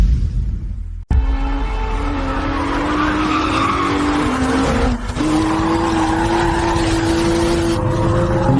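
An old car drifts on ice, its tires skidding in a long, continuous squeal over a rising engine whine. The sound is loud and close, with a sharp break near the start.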